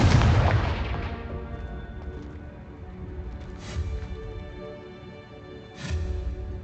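A fiery blast spell in the video game Hogwarts Legacy: a loud booming explosion right at the start that rolls off into a long decaying rumble, followed by two softer, more distant thuds.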